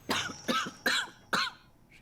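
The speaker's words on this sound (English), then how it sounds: "She chuckles herself into another coughing fit." A woman coughs in a video game role-playing scene, four sharp, close coughs in a quick, evenly spaced run, followed by a faint trailing breath.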